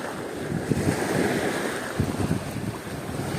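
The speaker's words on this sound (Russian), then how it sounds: "Классное море" Steady sea waves wash continuously with wind buffeting the microphone, a few surges breaking slightly louder, no voices present.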